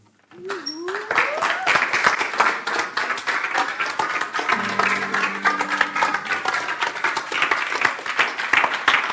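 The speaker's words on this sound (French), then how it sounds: "Merci pour ces applaudissements." Audience applause breaks out at the end of a gesticulated lecture performance, a dense, continuous patter of clapping that swells quickly and holds steady, with a brief rising voice at the start.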